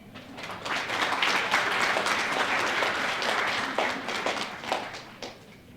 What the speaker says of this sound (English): let's give a big round of applause for Tori Harvey